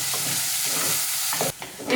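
Ivy gourd (kovakka) sautéing in a pan gives a loud, steady sizzle, with a few sharp stirring scrapes and knocks near the end and no voices.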